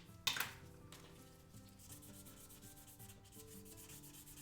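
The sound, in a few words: sanding spoons for painting a garage kit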